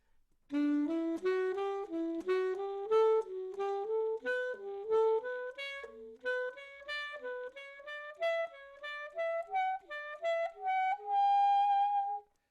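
A clean melodic line plays a major scale pattern over a backing track, climbing steadily in short groups of four notes, each note distinct and evenly timed, ending on a sustained high note.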